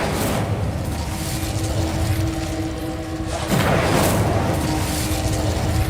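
Incendio fire spell cast in Hogwarts Legacy: a steady roaring whoosh with a low tonal hum, then a fresh burst of flame noise partway through, loud and continuous.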